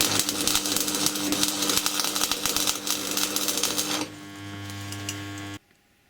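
Welding steel ammo can parts for a rocket stove, a loud, steady crackling buzz with a mains-like hum, which drops to a quieter droning hum and then cuts off abruptly.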